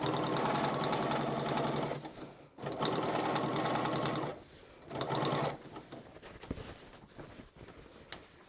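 Close sewing machine understitching a facing seam on a garment, running in three steady rapid bursts separated by short pauses, then quieter fabric handling and faint clicks.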